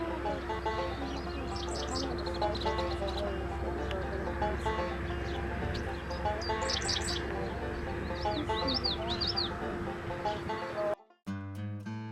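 Prairie songbirds such as red-winged blackbirds chirp and trill repeatedly over a steady outdoor ambience, calls scattered through the scene at moderate distance before an abrupt cut to other sound at the end.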